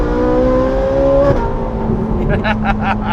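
Ferrari 458 Italia in race mode accelerating hard on the road, a loud high-pitched engine howl rising steadily, then a brief gear-change dip and renewed revving, heard from inside the car while people talk.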